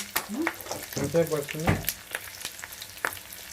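Stuffed snake gourd frying in a pan gives a soft, steady sizzle with scattered stirring scrapes, and brief voices talk over it.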